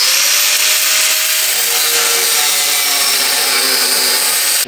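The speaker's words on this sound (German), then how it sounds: "Und deswegen werden wir hier erstmal das Ganze wegflexen." An angle grinder cuts off a stuck screw and the metal around it during a repair, a loud, steady high-pitched grinding whine close up that runs unbroken and cuts off abruptly at the end.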